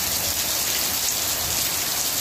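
Steady, heavy rain pours down around a house during a downpour, a dense, even hiss with no talk and no break in intensity throughout.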